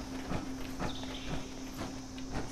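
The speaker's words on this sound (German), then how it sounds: "ich höre Schritte" Footsteps in the video game Fallout 76 thud at a steady walking pace over a low, constant hum, moderately quiet and with no talk.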